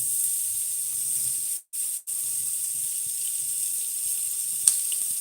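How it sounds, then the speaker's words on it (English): Hot bacon grease spatters in a pan as a steady, close hiss with a crackling edge. Two brief breaks interrupt it, then it carries on with a single sharper pop near the end. "Now we got a good amount of grease. Now, to avoid the spatter,"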